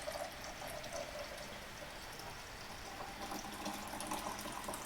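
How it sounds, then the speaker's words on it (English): Hot tea pouring from a teapot, a faint steady trickle of liquid lasting several seconds with no voices. "this is a nice teapot my mom gave me. Just, can you hear it pouring?"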